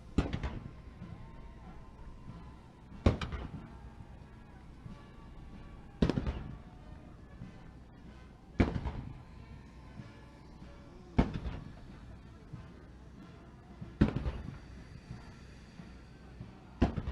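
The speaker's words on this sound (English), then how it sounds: "A little bit of military salute going on right now" Military gun salute fired at a presidential event with Donald and Melania Trump: six loud, sharp booms roughly every three seconds, each with a short rumbling tail, distant over a steady crowd murmur.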